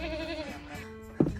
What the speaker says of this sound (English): Okay, here are the goats.